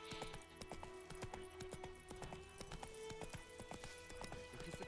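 Hooves of Roach, a galloping horse in The Witcher 3 video game, pound in a quick steady clip-clop rhythm over a busy layer of game music and ambience, fairly quiet overall.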